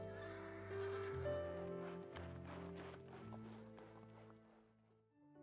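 An injured horse on a ranch gives a drawn-out whinny against a soft background of music-like tones, heard at moderate distance and fairly faint.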